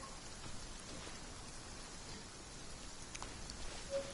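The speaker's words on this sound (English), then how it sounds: "The rain is nice." Steady, quiet rainfall, a soft even patter of drops on a surface with no talking and only slight swells in intensity.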